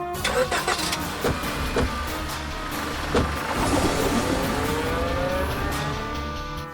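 A car engine cranks with quick rattling pulses, then catches and settles into a steady, loud idle close by, with no talk over it.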